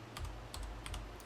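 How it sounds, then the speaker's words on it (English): Close, crisp keystrokes on a computer keyboard in a series of light clicks, several bunched together in an uneven rhythm, against a soft low background hum. "I'm going to hit R on the keyboard"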